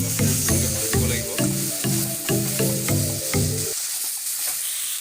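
Local kuchia eel fish frying in a pan, with a loud, close sizzle pulsing in rhythmic bursts as the pieces are stirred, then easing to a quieter hiss.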